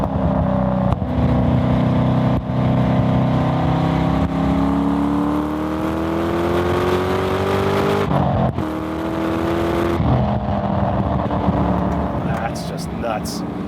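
A Flying Miata MX-5 ND fitted with a V8 engine roars loudly and continuously, its pitch climbing steadily through the gears with brief drops at shifts, heard up close with no voices.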